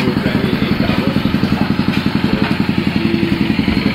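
Several rental motorbike engines idle close by, a steady rapid low chugging with clattering texture and a constant rumble. There is no talk.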